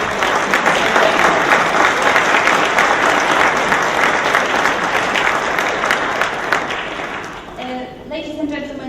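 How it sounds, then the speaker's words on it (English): Loud, dense applause fills a large audience hall at a security forum, sustained for several seconds before tapering off as a voice begins speaking near the end. "let's give a big round of applause to our guest secretary"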